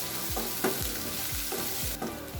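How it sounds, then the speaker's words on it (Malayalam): Two teaspoons of ginger garlic paste sauté in a pan for a potato masala under a continuous hiss, punctuated by five rhythmic spatula strokes scraping across the pan. "ഇനി ഇതിൻ്റെ പച്ചമണം മാറുന്നവരെ ഒന്ന് വഴറ്റി കൊടുക്കുക."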